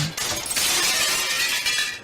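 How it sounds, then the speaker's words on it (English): A window breaks: glass shatters loudly and keeps crashing and tinkling for about two seconds, a dense bright burst that tails off at the end. "The window broke and glass fell down."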